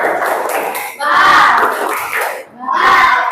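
A school class joins in a rhythmic spirit clap chant, shouting together in loud group bursts separated by short pauses, close by and full of energy.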